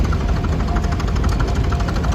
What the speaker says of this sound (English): Minneapolis Moline with an Elwood front-wheel drive